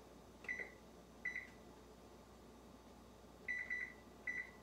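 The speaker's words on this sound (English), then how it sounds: "I'm gonna put my timer on 8 minutes." An oven timer is keyed in for eight minutes, giving a sequence of short electronic beeps in small clusters, quiet and close, separated by pauses with faint room hum.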